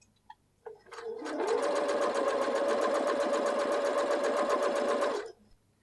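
A sewing machine stitches a pocket across a bulky jumper seam in one close, steady run of about four seconds, its motor whirring evenly before stopping, with a couple of small clicks before it starts.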